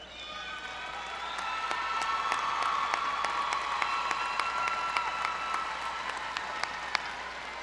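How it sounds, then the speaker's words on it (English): A large crowd applauding honor graduates at a high school graduation ceremony, the clapping swelling in and holding strong, with scattered sharp individual claps standing out. "please join me one more round of applause for 2018 honor graduates"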